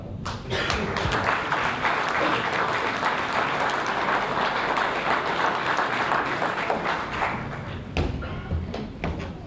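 Sustained applause from an audience at a Christmas carol concert gala, dense and continuous clapping that fills the hall for several seconds before thinning out near the end.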